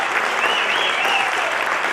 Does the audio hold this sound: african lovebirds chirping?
no